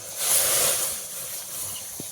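Water poured into a hot wok (kadai) over a well-lit stove gives a sharp, airy sizzle that swells quickly, holds for under a second, then fades to a soft steamy hiss.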